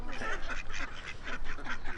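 Ducks quack repeatedly in a park on a warm spring day, with a steady run of nasal calls at close range and only faint background noise.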